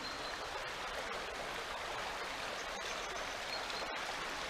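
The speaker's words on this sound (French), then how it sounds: "Le bruit de la rivière en dessous." Steady broadband rush of flowing water, like a river running somewhere below, constant and unbroken with no voices.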